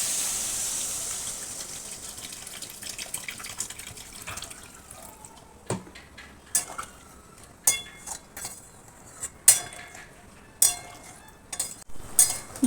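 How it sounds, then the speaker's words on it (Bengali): Water poured from a vessel into a pan of cooked-down spices for a fasha fish curry, a steady gushing pour at first, then scattered splashes and drips, close by with no talk. "এবার আমি এতে জল দিয়ে দেব। দিয়ে দিচ্ছি পরিমাণ মতো জল।"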